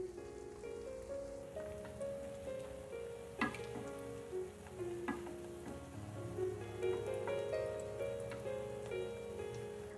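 Malpua pancakes of mawa batter frying in a pan over medium-low heat, a soft steady sizzle with faint bubbling and occasional clinks, no voices.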